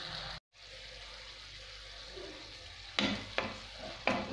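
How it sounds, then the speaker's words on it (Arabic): Minced meat frying with garlic and tomatoes in a pan, a constant soft sizzle that drops out briefly near the start, then three sharp scraping stirs toward the end. "هكذا نخليه يتقلى يتقلى هكذا شويه اللحم مع الثوم والطماطيش"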